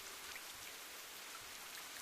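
Steady rain falls in a visual novel scene, a dense, even hiss of drops on the road and surfaces, constant and alone with no voices over it.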